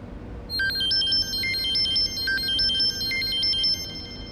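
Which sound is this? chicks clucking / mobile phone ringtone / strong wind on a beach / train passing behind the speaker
mobile phone ringtone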